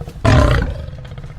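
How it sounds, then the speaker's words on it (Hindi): A cartoon lion gives a short, loud growling roar that swells abruptly and fades within about half a second, leaving a brief quieter rumble afterward. "शेर गुर्राया,"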